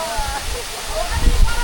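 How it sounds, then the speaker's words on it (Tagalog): Tumalog Falls in Oslob, Cebu, its water dropping into a shallow turquoise pool, gives a loud, steady broadband roar and splash that fills the whole moment. "Tumalog Falls dito sa Uslob, Cebu."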